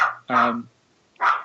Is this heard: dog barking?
yes